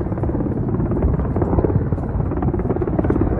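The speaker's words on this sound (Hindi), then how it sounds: "भारतीय वायुसेना का Mi-17 V5" An Indian Air Force Mi-17 V5 helicopter flying over a flag ceremony in Ladakh makes a loud, continuous rotor thrum and engine drone, close and steady throughout.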